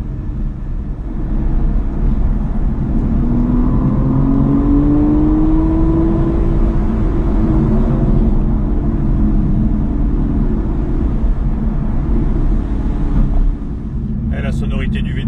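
Aston Martin V12 naturally aspirated engine heard from inside the car on a road trip, a loud, smooth drone that rises and falls in pitch as it revs, then eases near the end.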